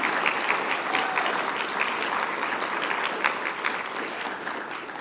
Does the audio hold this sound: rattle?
no